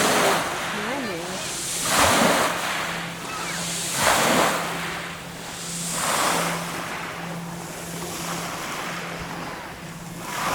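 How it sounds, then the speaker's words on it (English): Ocean surf surges onto a beach in slow rolling swells about every two seconds, mixed with wind buffeting the microphone and a faint steady hum, while people talk. "Look at that surf"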